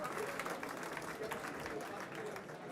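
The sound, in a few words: audience applause for nominees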